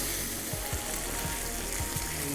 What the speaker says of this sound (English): Smoked bacon is frying.